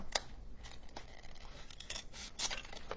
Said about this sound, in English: The styrofoam tray is pretty easy to cut through, so.